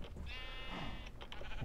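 Sheep in the video game Minecraft bleat in one clear, drawn-out harmonic call followed by a few shorter bursts, close and moderately loud with no talking.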